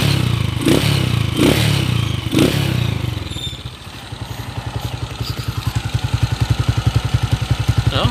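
A Honda TMX155 motorcycle engine runs noisily, starting with heavy revving and clattering knocks, then settling into a loud, rough, rapidly pulsing idle up close.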